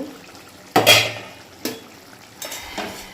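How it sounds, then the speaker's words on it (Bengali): A lid comes off a pan of bata fish cooking in mustard-poppy paste with a sharp metallic clank and a rush of sizzling, then a few lighter clinks follow. "বন্ধুরা, এবার ঢাকনাটা খুলে দেখব।"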